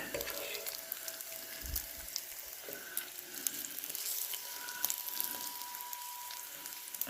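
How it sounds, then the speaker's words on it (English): Bacon sizzles steadily in a hot skillet with a dense, crackling fry that holds at a moderate level throughout, with no talk over it. "So that was about what, 5 minutes cooking it on the skillet."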